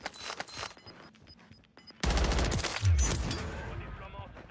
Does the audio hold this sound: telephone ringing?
no